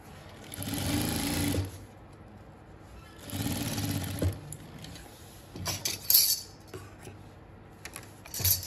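A sewing machine stitches along the edge of a zipper on a handmade bag in two steady, close whirring runs, followed by light clinking and handling of hardware.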